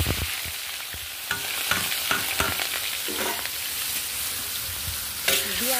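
Soaked rice frying in ghee with whole garam masala for pulao gives a steady close sizzle throughout, with repeated scraping stirs and a few sharper clinks of a utensil against the pot.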